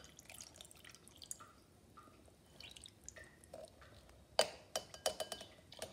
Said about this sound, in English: pour the water in the macaroni.